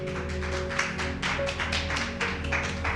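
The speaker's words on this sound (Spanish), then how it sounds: "darle un fuerte aplauso a Dios por la vida de nuestro pastor Humberto Acero" A church congregation gives loud, sustained applause, dense clapping rising and falling over steady background music, with no talking.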